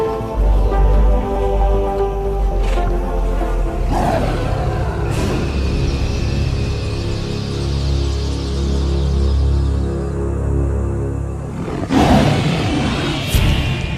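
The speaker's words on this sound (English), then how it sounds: "This roar from afar is a sound that spells trouble." A distant lion roars from far off across the savanna near a feeding pride, a deep rumbling call that swells and carries over steady low ambient hum, with sharper roar bursts near the start and end.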